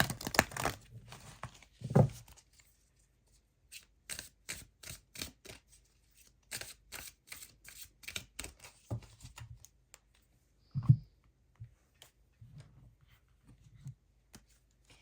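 Tarot cards handled and drawn from a deck, crisp flicks, crinkles and slides in short clustered bursts separated by near silence, close and soft.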